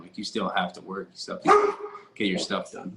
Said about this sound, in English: That's my dog. I don't know what he's barking at.